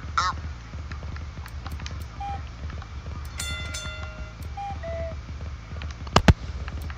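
A duck-sounding novelty car horn in Forza Horizon 3 gives short quacking honks over a steady engine drone, ending in a louder, sharper burst near the close.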